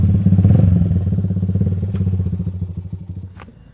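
A 1986 Honda ATC 250R three-wheeler being ridden, its engine chattering in rapid, uneven pulses, loud and close at first, then gradually fading as it moves off.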